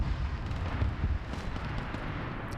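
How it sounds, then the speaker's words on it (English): Heavy airstrike explosions in a military video game during a winter city takeover, heard as a continuous deep, rumbling boom that rolls on without a break and with no talking. "those are some pretty effective airstrikes"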